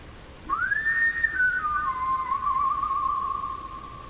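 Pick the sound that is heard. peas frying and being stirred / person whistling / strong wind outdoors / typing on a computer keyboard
person whistling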